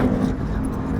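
Cars travel over a road bridge, a steady close engine and tyre rumble running through the whole short moment with no clear pass-by peak.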